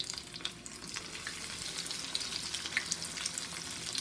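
Cajun seafood balls fry in 350-degree oil, giving a steady, close crackling sizzle with fine popping throughout and no talking.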